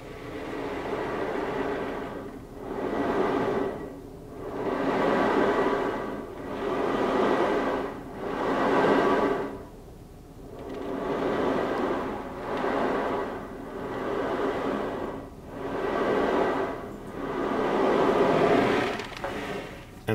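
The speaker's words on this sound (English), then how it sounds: "kind of a meditation, is something called an ocean drum" An ocean drum tilted back and forth makes a soft rolling wash like surf, with about eight slow waves of rising and falling rattle, steady and fairly close.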